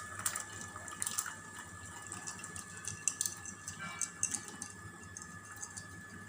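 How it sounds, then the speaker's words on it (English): Faint bubbling and gurgling of water boiling in a pot, with small irregular pops over a soft steady hiss. "So water is boiling. Nicely it is boiling."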